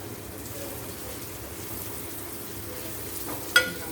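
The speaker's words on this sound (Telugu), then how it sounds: "అట్లా మంచిగా ఆయిల్లో కొంచెం ఫ్రై అయితే ఈ ఫిష్ పీస్ ఏమవుతుందంటే కొంచెం నీసు వాసన అనేది పోయి" Pieces of fish frying in hot oil for a fish curry, a steady soft sizzle and crackle throughout, with a brief sharper clatter near the end.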